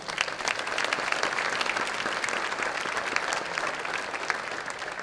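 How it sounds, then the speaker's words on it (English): A crowd applauds at a sports hall of fame ceremony, a thick, even roar of many hands clapping that holds steady throughout without talk. "Let's give them a round of applause."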